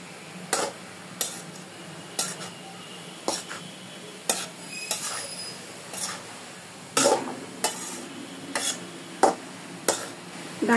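A spoon stirs chopped garlic and onion in a hot pan while cooking greens, giving repeated sharp scraping clatters against the metal at an irregular rhythm over a low background sizzle.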